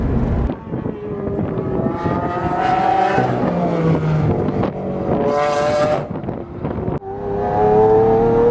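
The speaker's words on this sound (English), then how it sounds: "just play the fastest lap I have of the Aventador" Lamborghini Aventador LP700-4 supercar at full throttle around a Las Vegas racetrack, its loud V12 climbing through the revs, dropping at upshifts and braking, then surging again close by without speech.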